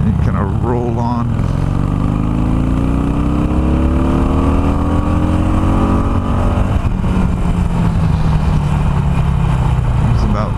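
A Harley-Davidson Iron 883 motorcycle with an air box mod and flashed ECM tune runs near and loud at light throttle, its engine note rising steadily then easing, under continuous rumble.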